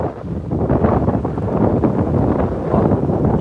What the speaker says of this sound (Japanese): 風速10メーター近く吹いておりますが